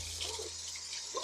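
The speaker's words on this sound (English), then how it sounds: "We need to get this filled up with some water" Water running from a tap into a large stock pot holding frozen corn, a quiet, brief splashing stream.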